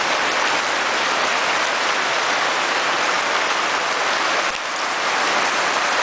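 Heavy rain pours down outdoors in a steady, loud, dense hiss that barely changes, with a brief dip midway and no voices.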